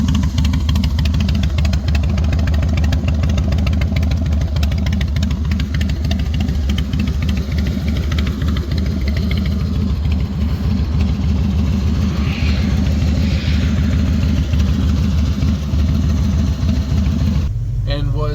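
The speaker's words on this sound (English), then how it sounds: "So my Harley Fat Boy has had aftermarket pipes on it," A carbureted Harley-Davidson Fat Boy with aftermarket pipes idles in a loud, steady low rumble that runs throughout and shifts near the end. Someone talks over it.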